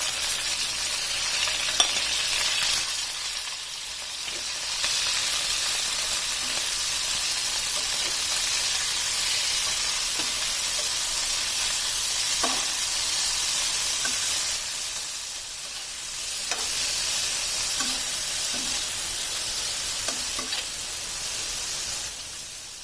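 Small mutton boti pieces frying in oil on a hot tawa, giving a continuous loud sizzle and hiss with occasional stirring clinks and brief dips, with no talk.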